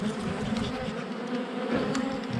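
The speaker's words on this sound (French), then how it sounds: "Enfin, je pense que c'est une abeille." Honeybees buzz steadily around a hive in a continuous, moderately loud drone that wavers as individual insects pass close, with no talking.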